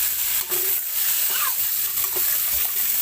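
Shrimp frying in a pan: a continuous bright sizzle fills the scene, broken by scraping stirs of a utensil against the pan, fairly close and loud with no clear speech.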